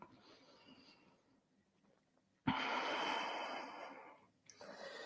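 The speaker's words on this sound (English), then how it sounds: "exhaling, breathing deep." Deep breathing during a yoga flow class: quiet, faint breaths at first, then a sudden, long, airy exhale, followed by a brief pause and another breath starting.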